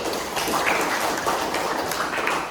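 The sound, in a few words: classroom applause for a student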